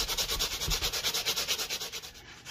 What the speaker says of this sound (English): So I've got just a little Scotch-Brite thing I want to try first. See if we can work some of that rust off.